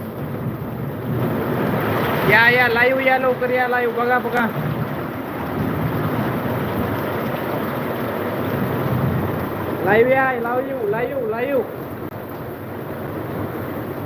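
Heavy downpour in Latur makes a constant wash of hiss and roar, with a man calling out repeatedly over the rain.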